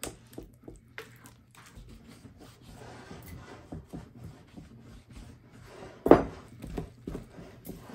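Sourdough dough mixed with flour in a bowl, steady close rubbing and scraping strokes with soft thuds and one sharper knock of the spoon against the bowl partway through.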